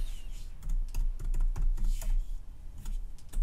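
Text is typed on a computer keyboard while drafting a 2D drawing in Fusion 360: a steady run of quick, close key clicks with irregular spacing over a low background hum, no talking.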